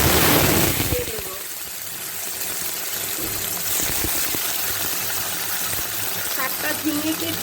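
Chopped ridge gourd hits hot mustard oil tempered with black cumin and a dried red chilli: a loud splash of sizzle, then a steady hiss that fades slightly.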